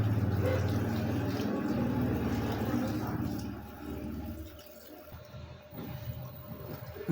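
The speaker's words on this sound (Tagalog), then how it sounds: "So, ayan, kumarga uli siya ng tubig." Water runs into an automatic washing machine as it refills after a PE error, a steady low rushing and gurgling that fades after a few seconds into quieter sloshing.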